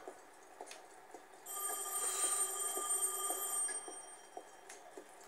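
A telephone rings in the video game Heavy Rain, a bright trilling ring lasting a couple of seconds over quiet ambience with faint ticking sounds, no voices.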